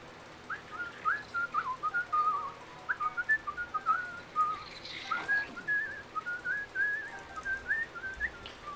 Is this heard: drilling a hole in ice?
no